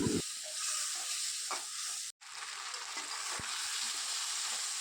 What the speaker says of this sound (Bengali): এবার মশলাটা ভালোভাবে নেড়েচেড়ে আমি কষিয়ে নেব।